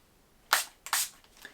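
Two quick hissing bursts of makeup setting spray, close by, about half a second apart, in an otherwise quiet room.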